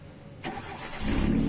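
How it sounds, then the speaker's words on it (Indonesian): A car engine is cranked and catches on a vehicle with weak starting, suspected battery or starter trouble; a sharp onset of cranking leads into a louder, steady engine rumble that builds toward the end, close by with no talk. "coba hidupin dulu mobilnya"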